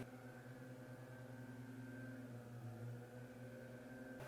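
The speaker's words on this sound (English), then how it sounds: "If you hear lawnmowers in the background" Lawnmowers droning in the background, a faint steady low engine hum with a constant tone that holds unchanged throughout and no voices over it.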